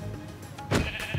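Sheep in a Minecraft-style survival game give a single short bleat, loud and near, over a faint background hum with no voices.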